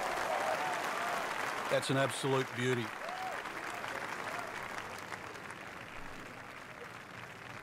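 Golf spectators at a PGA West tournament give a round of applause, fairly distant and sustained, while someone talks over it near the start.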